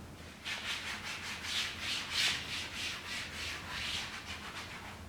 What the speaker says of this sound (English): take an alcohol prep pad and just clean the back side of your TV where you plan on sticking your LED lights